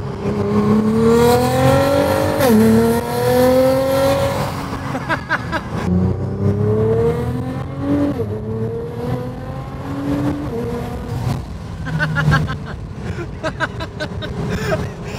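A Nissan GT-R engine revs up and down repeatedly, its pitch climbing and dropping with each rev, loud and close.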